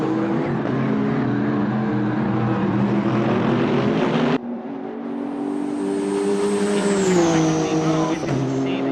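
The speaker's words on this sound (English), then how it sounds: "Shazin Reza is currently blitzing on the racetrack" A GT3 race car engine from a racing video game, lapping the Suzuka circuit, roars loud and continuous; it briefly drops off partway through, then climbs and settles in pitch as the car powers on.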